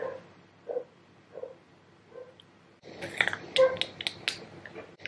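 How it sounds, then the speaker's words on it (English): A neighbouring dog barks in sharp, close bursts in the second half, several quick yaps in a cluster, after quieter muffled sounds in the first few seconds. "next door's dog, if you can hear it."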